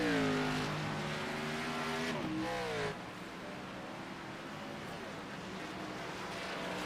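Race cars on the Watkins Glen circuit in a racing video game, one engine note rising sharply then dropping as a car sweeps past close by, leaving a steady blended engine drone from the field.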